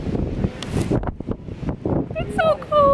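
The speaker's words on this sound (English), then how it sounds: "You can hear the wind" Cold wind buffeting a microphone high up outdoors in Kobe, gusty rumbling noise under a person talking, with other faint background sounds near the end.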